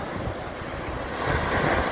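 Arabian Sea surf washes onto the black-sand shore of Alappuzha Beach in Kerala, a close, continuous rush of breaking water swelling louder, mixed with gusty wind buffeting the microphone.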